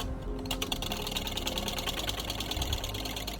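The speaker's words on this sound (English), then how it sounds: "You can use a whisk or you can also use a handheld mixer with" A handheld electric mixer fitted with a whisk attachment beats three eggs for a soufflé omelette, giving a steady, close, buzzing motor whir with a fast rattling texture and no talking.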